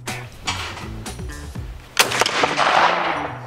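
Shotgun blasts at clay targets on an outdoor shooting range: several sharp, loud reports in quick sequence, with the last one ringing out into a long, noisy decay.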